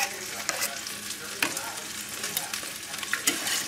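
Scallions and parsley sizzling in a hot pan, a steady close frying hiss with occasional stirring clicks and scrapes.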